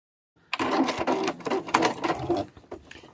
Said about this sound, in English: stitch all the way across, just going to back stitch there and do the same to the next corner.